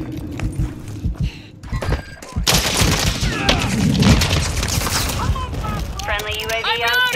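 Gunfire and explosions from a Call of Duty Modern Warfare 3 multiplayer match, loud dense bursts of shots and thuds that keep going with no pause through the whole stretch, with game effects and chirps near the end.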